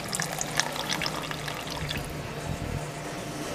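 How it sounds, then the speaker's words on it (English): Liquid pours from a pot back into another pot while making gumbo with packaged roux, a steady close trickle and splash with a few small knocks early on. "The liquid is going back in the pot."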